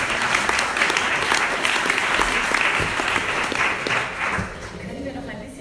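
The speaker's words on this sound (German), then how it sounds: "ein Applaus" A crowd at a panel discussion applauds steadily, dense clapping that stays loud and even before easing slightly near the end.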